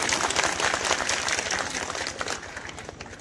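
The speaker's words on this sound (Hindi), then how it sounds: "ताली बजा दिए जोड़ने के लिए।" A crowd applauding for visiting saints at a village religious ceremony, brisk and dense clapping that slowly thins and fades toward the end.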